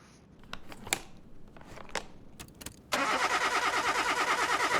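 A car engine cranks during a compression test. Faint clicks and clatters come first, then the starter whirs in a loud, rhythmic, fast pulsing for a couple of seconds, with no talk.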